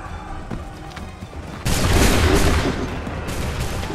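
Musket volley in the Assassin's Creed III video game, a loud massed crackle of gunfire that bursts in partway through and lingers as a dense rumble.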